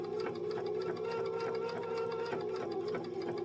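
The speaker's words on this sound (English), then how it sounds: "sew a little bit, stop, lift your presser foot and rotate it, sew a little bit, lift and rotate" A sewing machine stitches a curved edge in short bursts, its needle giving a fast, even mechanical chatter that runs steadily and close by, with no talk.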